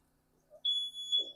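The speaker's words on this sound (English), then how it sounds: "that's my smoke alarm goes off" A kitchen smoke alarm sounds a shrill, high electronic beep that holds steadily, close by, after a soft rustle.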